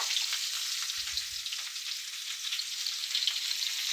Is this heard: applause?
no